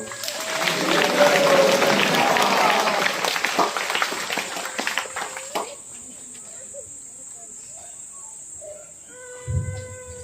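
Loud applause from a church congregation at a Catholic priest's ordination rite in Barwadih parish, swelling for about five seconds and then thinning to scattered claps, with quiet speech near the end.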